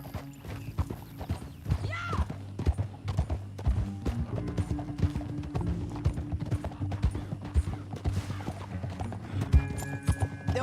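Steady clip-clop of horse hooves trotting close by in the video game Red Dead Redemption 2, a continuous rhythmic beat over a low hum, with a brief whinny partway through.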